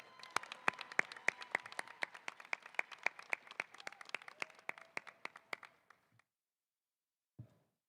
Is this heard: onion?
no